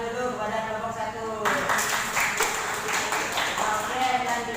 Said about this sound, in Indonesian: Tepuk tangan dulu kepada kelompok 1.